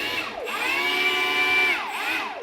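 A Milwaukee M18 Fuel cordless string trimmer runs without its attachment indoors, a steady high electric whine that sweeps up at startup, holds a constant pitch, then dips and rises again as the motor revs down and back up.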